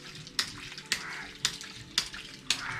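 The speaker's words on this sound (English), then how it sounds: "A little water is coming out." A homemade ram pump pushes out small spurts of water in regular pulses, each burst arriving with a sharp click of the closing valve roughly every half second, five in all, over a steady trickling wash.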